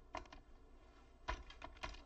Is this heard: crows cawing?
no